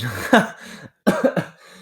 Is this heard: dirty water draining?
no